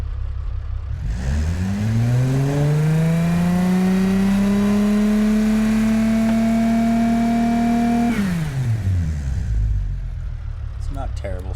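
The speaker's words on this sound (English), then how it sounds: "Let's hear what this engine sounds like." A car engine in the BeamNG.drive driving game, 135 horsepower with an automatic gearbox, revs up in a rising whine, holds a steady high drone for several seconds, then drops off sharply.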